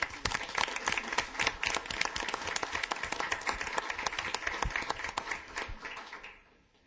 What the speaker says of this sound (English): I just want to give you a round of applause for a great presentation